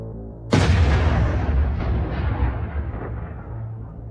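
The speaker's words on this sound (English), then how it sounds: "The explosion tears it apart." A single sudden, heavy blast as a tank is destroyed by a mine, then a long rumbling roar slowly decays over several seconds; no voices.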